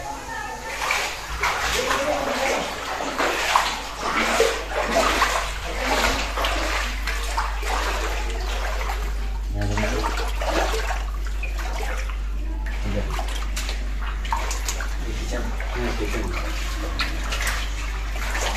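Dirty drainage water floods a house, running and splashing steadily throughout, while someone talks over it and a voice is faintly heard.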